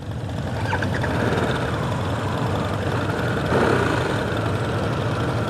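A 2025 Harley-Davidson Sportster S motorcycle engine idles steadily at a dealership, a low, continuous rumble that holds even throughout with no revving.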